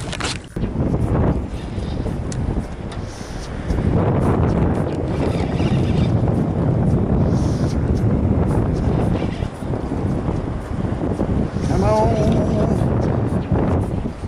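Steady wind buffets the microphone aboard a small fishing boat on a catfishing outing, a continuous loud rushing roar that swells and eases throughout, with faint water sounds beneath.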